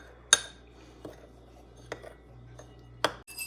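Dry seasonings, including dry mustard, being mixed in a bowl for Hungarian beef goulash, with a handful of sparse, separate clinks of a utensil against the bowl over a quiet background, no voices.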